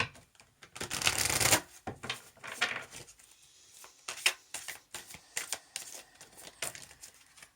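Wisdom of the Oracle cards by Colette Baron-Reed being shuffled by hand, a loud riffling burst at first, then quieter irregular slides and taps, close and without speech.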